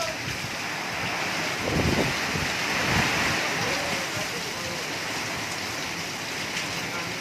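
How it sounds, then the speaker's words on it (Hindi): Heavy rain in Daringbadi, Odisha, pours as a steady dense hiss throughout, loud and constant with a few low thumps and rumbles underneath. "अब तक पानी नहीं आया है, लेकिन बारिश बहुत ही ज़्यादा।"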